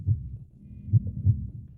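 A fast heartbeat sound effect pulses in muffled low thumps, a few quick beats in paired rhythm, deep and close with no other sound around it.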